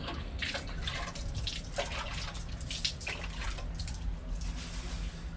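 Tap water runs steadily while a freshly caught fish is rinsed off before grilling, a continuous close splashing wash with small drips and no talk over it.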